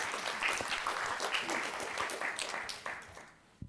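An audience in a hall applauds to welcome speakers onto the stage, a steady wash of many hands clapping at moderate distance that tapers off near the end.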